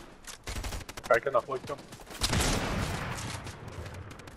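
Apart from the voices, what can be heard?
gunshots in a video game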